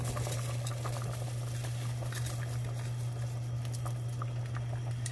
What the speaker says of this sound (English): So our beans came up to a boil.